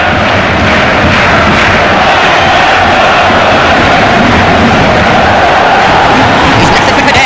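Stadium crowd at a Chile vs Spain World Cup football match, roaring loudly and continuously as the Spanish forward attacks, a dense wall of noise with a commentator's voice beneath it.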